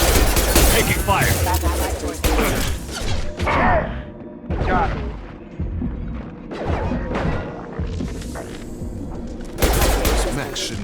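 Gunfire from Mass Effect 2 crackles in loud, dense bursts and scattered shots across the whole stretch, with impacts and crashes mixed in and people talking over the firefight.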